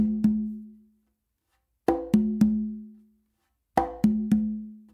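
Conga and tumba playing a Danny Thompson tumbao, finished with two open tones on the tumba: three sparse groups of resonant drum strokes, a single hit and then two triplets of sharp, ringing hits, close and clear with silence between.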